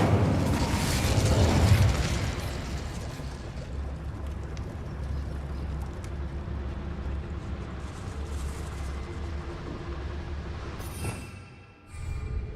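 Fire spell cast in the video game Hogwarts Legacy: a loud roaring burst at the start settles into a sustained low rumble, with a brief dip and a crackle near the end.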